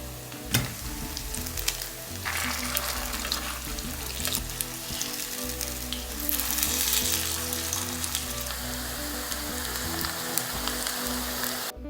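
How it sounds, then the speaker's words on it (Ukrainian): Buckwheat patties frying in a pan until browned on both sides, a loud, continuous close sizzle with dense crackling pops and occasional sharp spatters, no voices. "достатньо буде тільки підсмажити до рум'яної кірочки з обох сторін"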